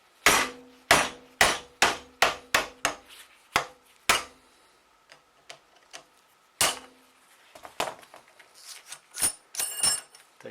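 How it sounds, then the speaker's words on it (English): A hammer taps a screwdriver against the steering box nut of a 1967 Mustang, a run of about a dozen sharp metallic strikes, evenly spaced at first, then scattered lighter taps and a final quick cluster, close and clear without speech. "putting a screwdriver on this thing and then hitting it with a hammer to tap it around and break it loose"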